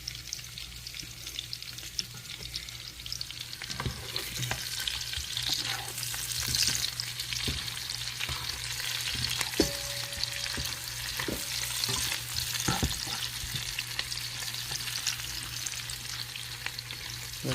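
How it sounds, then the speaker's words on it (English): Gizzard frying in oil in a pan before making fried rice, a loud, steady crackling sizzle with occasional stirring clatters, close and uninterrupted by voices. "I'm just going to fry this in the same oil I'm going to use to make the fried rice"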